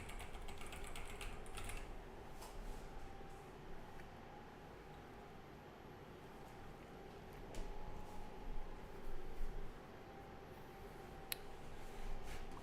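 Quiet computer keyboard keys pressed rapidly and irregularly to control a PICO-8 game, soft clicks over a faint steady hum.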